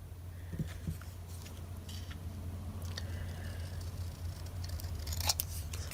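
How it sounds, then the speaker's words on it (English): Scissors snipping through a paper ticket during journal crafting, a few soft close cuts over a low steady background hum. "I'm going to cut it. I'm going to use my scissors."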